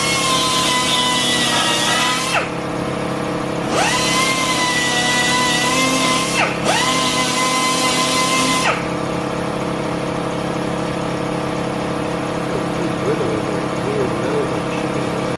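Welding on a cracked metal turbo kit for a car, with three bursts of bright buzzing arc hiss lasting a couple of seconds each, separated by short pauses, over a steady machine hum and background whir.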